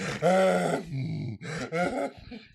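A voice imitates loud, heavy snoring with drawn-out groaning, rasping pulses that rise and break off in several close, forceful bursts.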